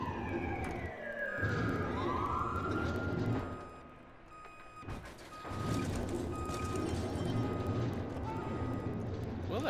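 Police car siren wailing in the video game Watch Dogs 2, a rising sweep early on over a dense, noisy game mix, with a voice talking over it.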